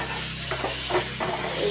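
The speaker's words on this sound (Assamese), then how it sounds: "এতিয়া মই ভাজি আছোঁ বেঙেনা পুৰিয়ে গ'ল" Eggplant frying in a pan, a soft steady sizzle with faint stirring scrapes, fairly quiet and close with no voices.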